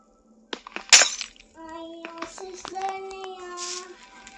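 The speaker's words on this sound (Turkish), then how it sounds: "Şuradan camı kırayım." Window glass broken in a rich-versus-poor story video game: a sharp shattering crash near the start followed by scattered tinkling and clattering hits, with tonal game sounds afterward, fairly close and clear.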